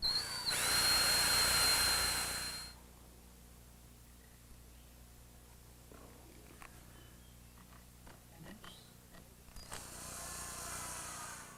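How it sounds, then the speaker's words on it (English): A power drill pre-drilling a screw hole in wood whirs loudly for about two seconds, then quiet handling and light tapping follow before a second, softer drill burst near the end. "pre-drill a hole for a screw"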